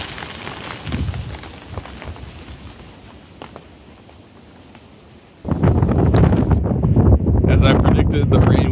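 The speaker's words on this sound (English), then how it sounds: "it's still incredibly windy at the north peak of Sam Knob, and wind's intense up here." Strong gusts buffet the microphone at the north peak of Sam Knob in Pisgah National Forest, North Carolina, a moderate rumble at first, then a sudden loud, roaring blast that persists to the end; no talking.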